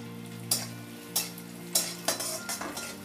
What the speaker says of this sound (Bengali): হালকা একটু নেড়ে নেব।